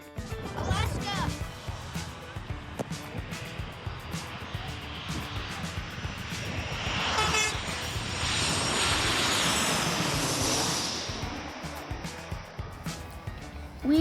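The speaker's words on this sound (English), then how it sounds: "We even got some great shots of this WestJet 737-700 as it flew over us to land on runway 25 left." A WestJet Boeing 737-700 passes overhead on approach to land on runway 25 left at LAX, its engine roar swelling to a broad, steady rush in the middle before easing off, with people talking throughout.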